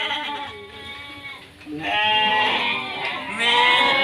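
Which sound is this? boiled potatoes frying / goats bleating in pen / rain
goats bleating in pen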